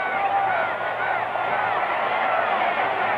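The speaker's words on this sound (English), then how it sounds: "this Houston drive has awakened the sellout Houston crowd" A sellout Houston crowd roars steadily at a 1962 AFL Championship football game against Dallas, a dense, continuous wash of cheering and shouting voices with no breaks.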